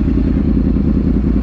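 Yamaha R1 Raven motorcycle engine, a bike about a decade old, running with a steady, loud low rumble throughout, close up and with no talk over it.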